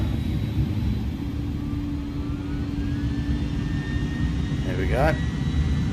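Jet engines of an iniBuilds A310 in MSFS 2020 spool up to takeoff power, a steady loud roar with a rising whine, and a brief voice speaks near the end.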